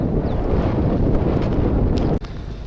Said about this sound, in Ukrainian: тут дуже вітряно на верхівці